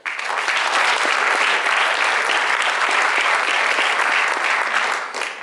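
Loud, dense applause from a crowd at a community garden awards ceremony, a full sustained roar of many hands clapping close by, tapering off briefly at the end.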